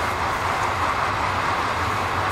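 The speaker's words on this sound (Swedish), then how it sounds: "Det åker tåg förbi här. Om ni inte hör det så är det tåg." A train passes close by with a steady, loud roar of wheels on rails and a low rumble that continues through the whole stretch. No one speaks over it.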